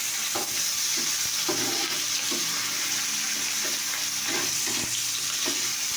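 Sliced onions fry in hot oil in a pan, giving a steady close hiss of sizzling broken by a few soft scrapes and clinks of stirring, with no voices.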